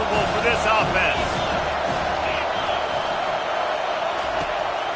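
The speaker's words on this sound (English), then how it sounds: "This crowd trying to make life miserable for this offense." Crowd roar fills a football stadium during a Georgia Southern game, a dense continuous wash of cheering and shouting with scattered whoops, loud and sustained throughout, with some talk mixed in.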